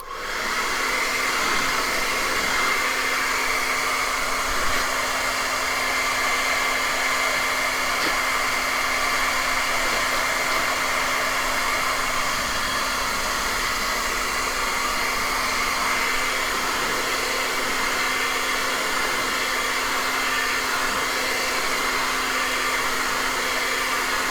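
A hair dryer blowing on wet acrylic paintings, a loud, steady whirring roar with a constant motor hum that runs unbroken from start to finish, with no talking over it.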